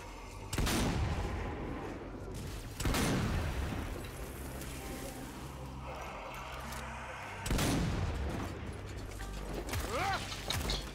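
Gunfire in Zombie Army 4 sounds as heavy, booming shots that repeat every few seconds over a dense, loud mechanical din, with a voice speaking underneath.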